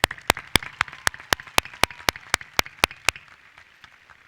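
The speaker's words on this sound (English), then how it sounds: "That deserves a huge round of applause." A small crowd at a high school graduation ceremony claps in a slow, even rhythm of about a dozen sharp, separate claps, nearly in unison, fading into quiet near the end.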